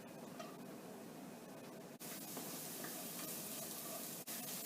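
Garlic sizzling in hot extra virgin olive oil in a pan over high heat, a steady close hiss of frying that swells louder partway through and carries on without pause.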